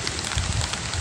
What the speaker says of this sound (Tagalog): umaulan na naman